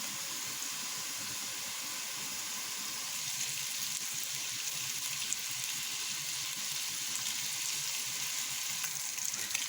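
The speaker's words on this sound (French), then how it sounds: "On laisse sauter un tout petit peu avant de passer à la suite." Plantain sautés in a pan, a steady bright sizzle and crackle that holds evenly throughout, close and alone with no talking.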